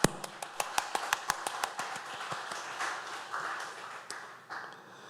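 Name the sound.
applause in church prayer meeting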